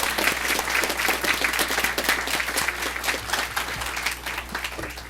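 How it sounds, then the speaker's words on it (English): A school board meeting audience gives a school sports team a sustained round of applause, dense and steady with many hands clapping together for about five seconds, with no talking over it. "well-deserved round of applause"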